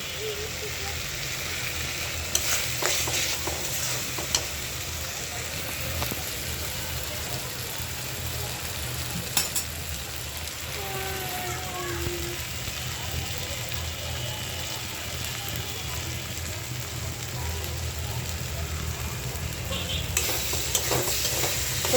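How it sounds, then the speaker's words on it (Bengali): Rice fried with spices in a pan for a Bengali fish-head and potato dish, with a steady sizzle and repeated scraping stirs running throughout, close and continuous. "আমার চালটা মশলা একদম ভাজা ভাজা হয়ে গেছে"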